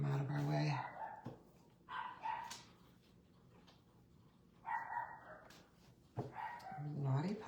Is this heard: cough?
no